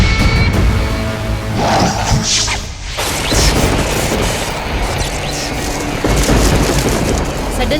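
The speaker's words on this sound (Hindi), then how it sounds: "ये बिजली कैसे कड़क रही है?" A thunderstorm rumbles with loud booming cracks of lightning, heavy crashing bursts over a dense roar of rain, with faint talk mixed in and a sharp break in the middle.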